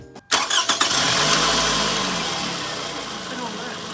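A 2006 Toyota Solara with a newly installed air intake cranks briefly and catches, then settles into a loud, close idle that slowly eases in level.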